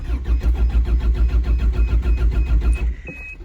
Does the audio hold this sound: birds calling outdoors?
no